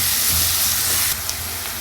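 Finely chopped onions sautéing in a pan for prawn gravy, a dense, continuous steamy hiss with a low rumble underneath, loud and close throughout.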